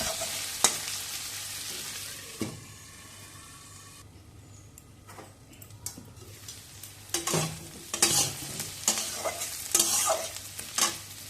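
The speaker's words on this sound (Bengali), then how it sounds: "ঢাকা করে আলুটা মাঝে মধ্যে নাড়িয়ে নেবো" Cubed potatoes with salt and turmeric are stirred in a frying pan for aloo bhindi: a spatula scrapes and clatters in bursts over a low sizzle, with a quieter lull midway before louder stirring strokes return.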